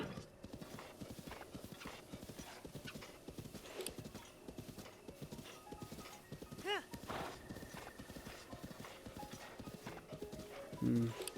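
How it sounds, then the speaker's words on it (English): A semi-tame horse in Zelda Breath of the Wild clip-clops steadily along, its hooves in an even rhythm, and whinnies once partway through, with a person talking over it at times. "Calm down, horse."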